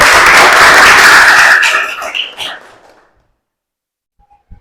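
A class of students applauds loudly in a close, dense burst of clapping that thins out and stops after about three seconds, leaving near silence with a couple of faint clicks.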